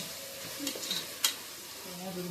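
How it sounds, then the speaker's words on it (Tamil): Curd being stirred into vegetable biryani in a pot, giving a soft scraping stir with faint sizzling underneath, a brief clink, and quiet steady background noise. "அது போதுமான அளவு போட்டு கிண்டிடுங்க"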